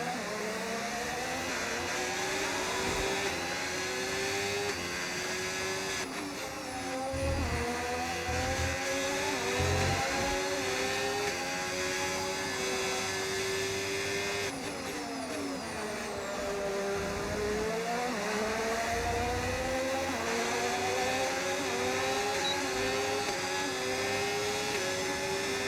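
An F1 car engine in the F1 25 video game screams at high revs without a break, the pitch climbing through the gears and dropping for corners in repeated cycles, with occasional tire noise.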